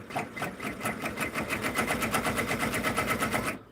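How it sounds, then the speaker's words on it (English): Embroidery sewing machine stitching back and forth, a rapid, steady mechanical chatter of needle strokes, close and moderately loud, stopping abruptly at the end. "I'm just going back and forth a few stitches"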